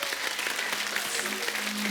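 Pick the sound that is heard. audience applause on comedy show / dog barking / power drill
audience applause on comedy show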